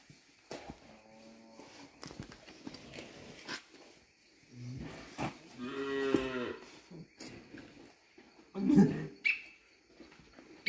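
Cows on a Brazilian farm during milking, with several low, drawn-out moos of varying length, some fairly close and loud, amid rustling and faint background sounds.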